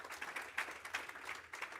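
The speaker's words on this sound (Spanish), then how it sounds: "Un aplauso a ellos" A church audience applauding, a brief faint patter of many hands clapping together, heard from some distance.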